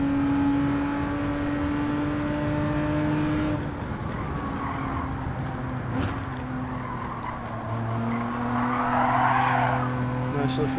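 A racing car in Gran Turismo 7, a G70, drones at steady high revs, then its tires squeal as it slides through a corner with some oversteer, while a voice talks over the engine.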